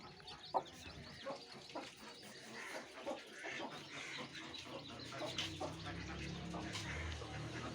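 Hens cluck softly on a village farm, with scattered short clucks and calls over a steady background hum at moderate distance.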